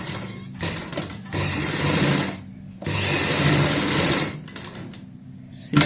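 A sewing machine stitches the coat collar of a kurti in two loud, close bursts of fast rattling whir, each running a couple of seconds with a brief pause between and a sharp click at the end.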